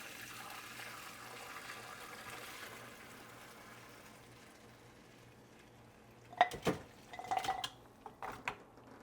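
Homemade bone broth is poured through a strainer into a bowl, giving a faint steady trickle and wash of liquid, followed by a few sharp clinks of the strainer and bowl near the end.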